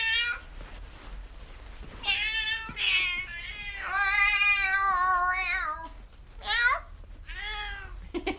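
A house cat meows repeatedly up close, a series of drawn-out, wavering cries, some rising and falling, with short pauses between them.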